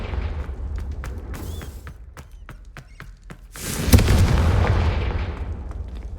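Confringo spell blasts in the Hogwarts Legacy video game: a series of sharp cracks in quick succession, then a heavier booming explosion that swells and lingers before fading.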